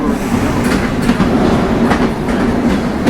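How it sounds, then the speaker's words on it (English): A New York subway train rumbles loudly along the tracks with continuous rattling wheel clatter and scattered metallic clicks, steady from start to finish. "why's the train gotta speed up now?"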